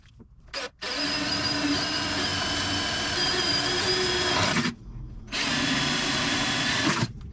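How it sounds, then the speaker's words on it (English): A power drill whirs in long, steady bursts, drilling mounting holes during a GT40 kit car fuel system install, stopping briefly between holes, close and fairly loud with no talking. "So I'll get stuck into drilling these holes and getting these mounted up"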